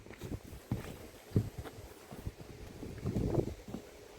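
Wind buffeting a microphone outdoors on a brickwork job site, irregular low rumbling gusts and thumps that swell and fade over a few seconds.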